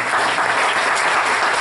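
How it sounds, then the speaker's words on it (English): A crowd in a school gym at an old-time music show applauds in a full, continuous wash of clapping that stays even and loud throughout. "let's keep our applause going for the good folks at Wilson Banking Trust."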